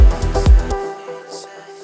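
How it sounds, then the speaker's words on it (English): A short synth fill in a melodic vocal house track, with punchy low hits for about three-quarters of a second, then a sustained shimmering tail that fades out. "So nice little fill sound."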